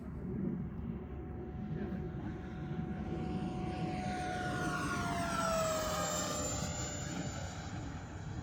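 A Flyfans K8 Karakorum 80mm EDF radio-controlled jet with drop tanks under the fuselage passes low at full throttle, a faint whooshing whine whose pitch slides downward as it flies by and then fades off.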